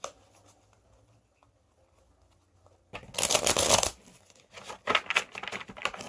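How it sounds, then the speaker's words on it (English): Ascension game cards are riffled close up in a loud, fluttering burst, then several shorter, quieter riffles and taps follow after a near-silent pause. "I'm going to shuffle this real good"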